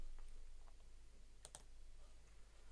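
Quiet, sparse clicks from a computer keyboard as Linux list commands are typed on Ubuntu running in VirtualBox on Windows 11, a few light keystrokes and a quick double tap over a low steady hum, no talking.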